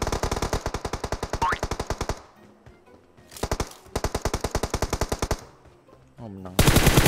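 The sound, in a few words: gunfire in a video game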